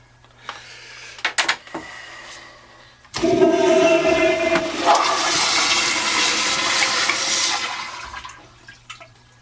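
A 1.6-gallon toilet with a Sloan flushometer valve flushes with a sudden loud rushing whoosh of water that holds steady for several seconds, then tapers off, after a few quiet clicks and handling sounds.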